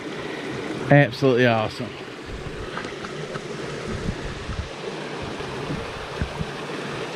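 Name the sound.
water flowing out of a cave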